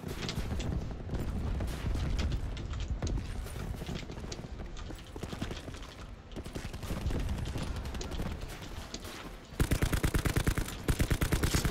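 Sustained gunfire in a first-person shooter video game, with dense rapid bursts of automatic fire throughout and a sharper, louder rattling volley near the end, with no talking.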